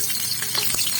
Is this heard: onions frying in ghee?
yes